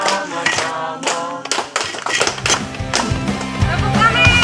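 A group claps in a quick rhythmic pattern, loud and close, with voices chanting along over the claps.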